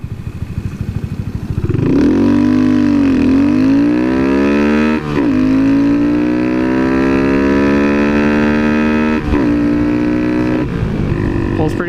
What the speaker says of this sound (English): I'll rip it just so you can see how fast the acceleration is.